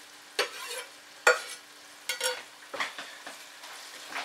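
Pastel meat filling with spring onions stirred in a pan off the heat, about five separate scraping strokes spaced out, each a quick swish with a soft sizzling tail, close and fairly quiet.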